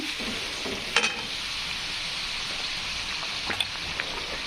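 Gravy for a chana dal amti sizzling in hot oil in a pan, a continuous close crackle like light rain, with a couple of brief sharper spits and pops, no voices.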